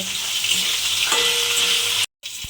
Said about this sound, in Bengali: দিয়ে কাঁকরোলটা প্রথমে আমি একটু লাল করে ভেজে নেব।